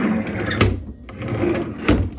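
A deep kitchen drawer slides open and shut, giving two or three close, firm thuds and rumbling glides in a quiet room.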